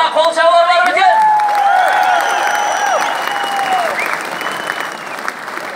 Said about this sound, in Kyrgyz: Кана кол чабуулар бар экен?